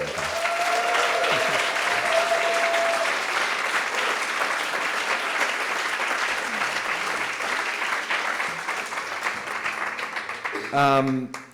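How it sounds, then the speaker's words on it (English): Sustained applause from a crowd, steady and full throughout, with a brief voice near the start and someone beginning to speak as it fades. "So I think we should give Lisa a big round of applause."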